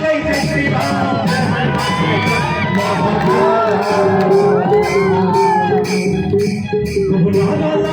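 A large crowd chants and shouts Jai Shri Ram slogans, a continuous loud roar of many voices with whoops and cheers, sustained throughout without a break.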